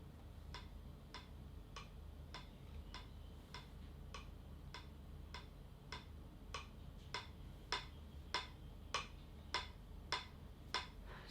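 Metronome in its classic sound setting ticking steadily at 100 bpm, the first beat of each bar higher and accented; evenly spaced, close, clean clicks with no talk.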